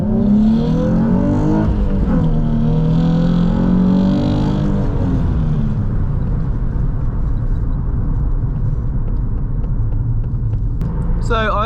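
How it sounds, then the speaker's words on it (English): A stock Nissan 350Z launches from a standstill and accelerates hard to sixty, the engine note climbing through several gear changes before settling into a steady drone inside the car, with a person talking over it. "show you the 0 to 60 on the 350Z, show you a bit of revving so you can see how the car sounds"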